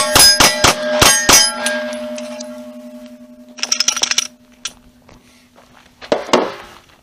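Glock 48 pistol shots ring off steel zone targets, five quick sharp clangs at the start followed by a long sustained ring, then two later bursts of metallic rattle and another clang.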